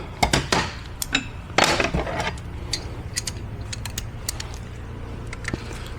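Bolts on an 8L90 transmission cover being snugged down by hand, with a few sharp metallic clicks and ratchet-like ticks over a low mechanical hum, close and moderately loud, no speech.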